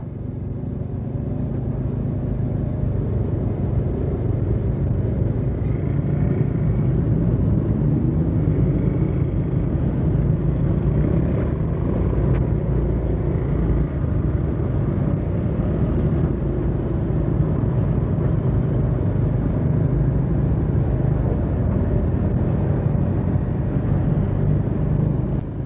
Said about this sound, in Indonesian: Lumayan agak padat ini untuk kendaraan di malam hari ini